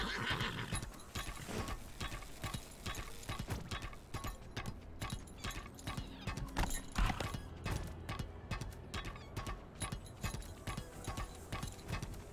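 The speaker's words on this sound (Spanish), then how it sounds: "Los caballos se tienen que destrozar los cascos corriendo por aquí." Horses gallop with steady, rapid hoof clops in a video game, a dense continuous drumming of hooves with an occasional whinny, loud and close throughout with no talking.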